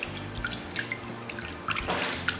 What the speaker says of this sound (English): you go ahead and wash it off with normal water